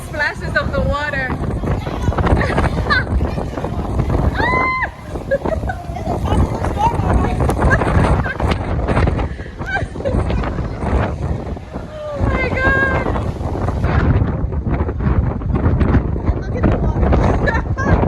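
Rough seawater splashes against a cruise boat near the Bahamas during a tropical storm, with steady wind buffeting the microphone throughout; people talk and exclaim over the continuous rushing spray.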